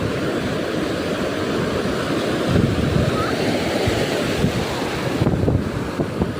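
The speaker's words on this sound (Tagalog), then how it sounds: "Paalala lang po ha, malaki yung alon." Big ocean waves roll and crash over a strong current at a beach, making a loud, steady roar of surf mixed with heavy wind buffeting the microphone throughout.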